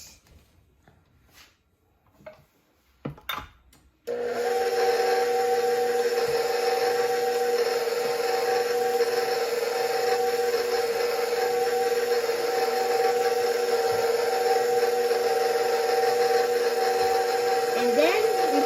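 Devil's food cake batter is mixed with an electric mixer, a steady loud motor whir that starts abruptly after a few soft handling knocks and runs on unchanged.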